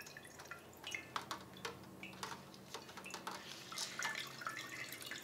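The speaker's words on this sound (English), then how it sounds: "Kind of wring it out here." Acetone dripping and trickling from soaked leather as it is wrung out by hand, a faint, irregular patter of small drips close to the microphone with no talking.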